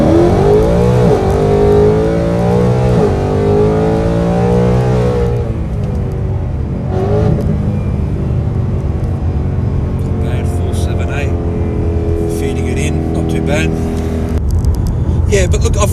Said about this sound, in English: I'm going to see if I can get a 0 to 100 run here off onto the highway here.